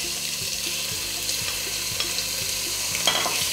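Chicken breast frying in a pot with sautéed vegetables for a one-pot pasta, a soft steady sizzle under repeated scraping stirs, close and moderately quiet, no talk.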